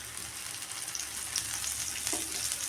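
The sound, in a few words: frying elephant yam (karunai kizhangu) pieces in oil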